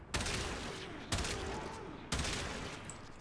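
Three sharp sniper rifle shots from the Vectis Prime in Warframe ring out about a second apart, each a loud crack with a short decaying tail, in quick rapid-fire succession.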